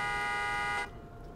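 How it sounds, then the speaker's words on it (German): A car horn in the OMSI bus simulator game blares as a single steady electronic-sounding honk lasting under a second, then cuts off abruptly to quiet background. "Ich höre auf jeden Fall ein Gehupe."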